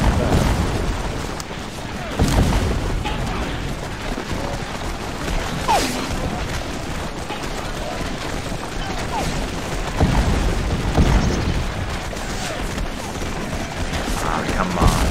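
Covering gunfire on a Take Command 2nd Manassas battlefield, a continuous crackle of massed musketry with scattered louder booming volleys, heard under someone talking throughout.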